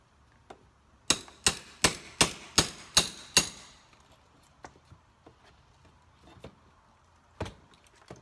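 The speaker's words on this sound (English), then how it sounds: "Now let's pull the brick mold off." Brick mould is pried off a storm door frame, giving a run of seven sharp, evenly spaced hammer-like knocks, then scattered lighter taps and creaks, close and isolated.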